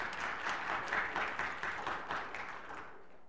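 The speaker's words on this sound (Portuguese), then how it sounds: "Palmas para ela" A studio audience applauds during a Brazilian game show, with a thick, even patter of many hands that holds steady and then tapers off toward the end.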